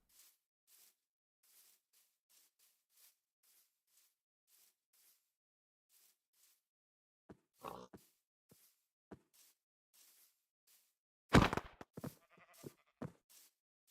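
Sheep bleating in Minecraft, a few short calls around the middle followed by a louder, closer burst of bleats near the end, with quiet clicks and taps spaced out before them.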